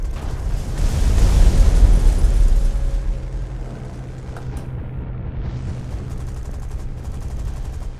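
In the War Thunder combat game, a 50mm cannon fires in a dense, rumbling salvo with explosions that swell and then fade into a steady engine-like drone. The blasts are loud and near, and no one talks.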